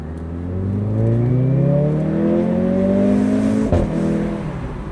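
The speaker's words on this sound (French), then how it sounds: "C'est nerveux, c'est un bon moteur." A lively car engine revs up close, its pitch climbing smoothly through the gears with a short shift break near the end, loud and steady without speech.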